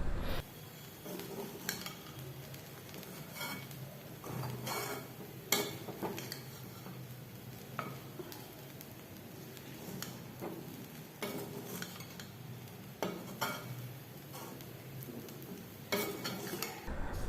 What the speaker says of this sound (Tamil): சேர்த்து எல்லாம் ஒன்று சேர்கிற மாதிரி கிண்டி விட்டுக்கலாம்.